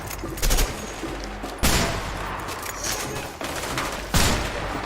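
Loud, dense volleys of gunfire in the video game A Way Out, several sharp bursts a second or so apart over constant battle noise.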